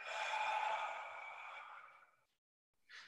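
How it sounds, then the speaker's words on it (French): A long, breathy exhale during a Pilates exercise, close and soft, fading out after about two seconds before a short new breath begins. "Et de nouveau, j'expire."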